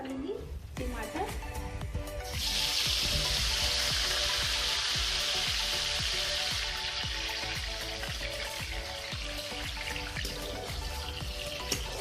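Tomatoes hit hot oil with crushed red chilies in a pan for sarson saag, giving a loud, hissing sizzle that swells after a couple of seconds and holds steady, with someone talking over it.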